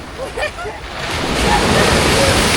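Sea surf washing onto a beach on a Thai seaside outing, a broad steady roar that swells and holds loud, with voices calling briefly near the start.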